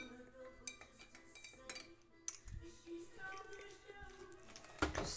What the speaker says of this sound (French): que vous allez mettre dans votre eau. On va mélanger.